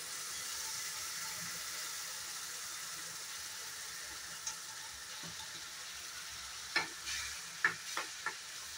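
Pasted capsicum, green chili and tomato frying in a pan for mushroom masala: an even close hiss of sizzling oil, with a few sharp spoon clicks and scrapes toward the end, no voices.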